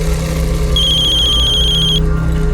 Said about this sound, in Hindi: लो आ गया फोन।